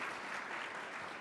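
An audience at a nonprofit gathering in a room claps in a dense, even burst of applause, steady and moderately distant throughout the short moment.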